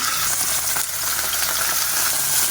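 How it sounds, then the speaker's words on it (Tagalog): Steady, close sizzling of pork liver frying in a hot pan, a continuous crackling hiss with no talking. "Magpiprito ako ngayon ng pork liver."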